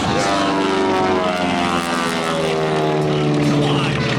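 The aerobatic Beechcraft Twin Beech, a former cargo plane, roars at full power on takeoff at the Garmin KC Airshow, its loud, steady twin radial engines and propellers droning close by with no talk over it.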